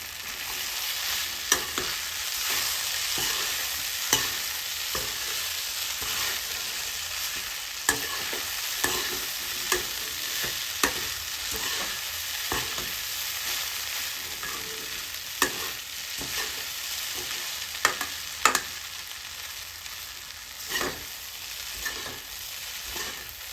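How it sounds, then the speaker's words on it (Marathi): Flattened rice poha frying in a pan for Maharashtrian kanda poha, stirred with steady scraping strokes and light clinks over a continuous close sizzle, with no talking. "आणि लगेच हलवून घ्यायचे पोहे."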